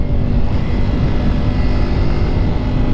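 A Suzuki Smash 115 Fi motorcycle engine revs hard while climbing uphill on Mount Samat, a loud, continuous droning roar held at high RPM with no break.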